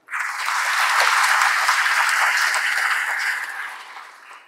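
Audience applause at a Rotary Club scholarship distribution event, a steady burst of many hands clapping together for about four seconds before tapering off, with no voices over it.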